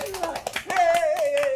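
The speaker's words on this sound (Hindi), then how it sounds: "चलो ना, बजाओ ना तालियां" A few hands clap in short, uneven bursts during a tense scene in an old Urdu television drama, the claps tangled with a raised, emotional voice speaking over them.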